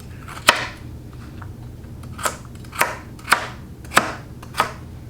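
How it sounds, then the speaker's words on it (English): Vegetables are roughly chopped on a cutting board with a knife, six crisp, distinct strikes at an uneven pace, close up and alone. "just give them a rough chop, like I don't know, cubey-ish"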